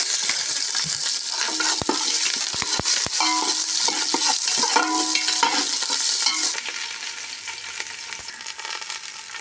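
Green chillies and onion fry in hot oil for chicken biryani, a loud, steady close sizzle broken by sharp metallic stirring clicks and scrapes that ease off slightly toward the end.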